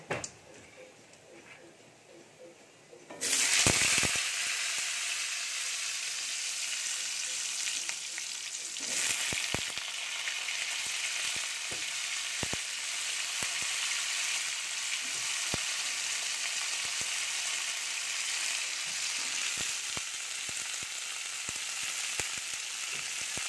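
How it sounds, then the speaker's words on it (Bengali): After a few quiet seconds, pointed gourd hits hot oil tempered with white cumin in a kadai and bursts into a loud sizzle. The frying then settles into a steady crackle with scattered stirring clicks. "পটলগুলো আগে একটু ভালো করে ভেজে নেব"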